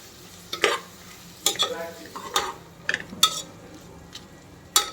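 Onions sautéing in a pan for Chennai-style mutton biryani, a low sizzle punctuated by repeated sharp metallic scrapes and clanks of a spoon stirring against the pan, close and intermittent; no talking.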